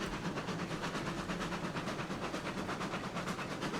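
A slow-moving train in the video game RailRoads Online rumbles steadily along the track with a soft, regular clickety-clack, fairly quiet and unbroken throughout.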